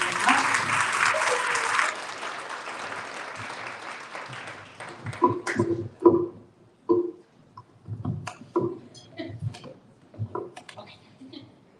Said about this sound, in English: Can we get another round of applause for Sabrina?